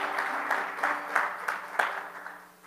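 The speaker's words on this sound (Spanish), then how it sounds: "es un aplauso fuerte al Señor" A church congregation at a prayer service gives a strong round of applause to the Lord, rhythmic unified clapping in a steady beat over a sustained organ-like tone, fading toward the end.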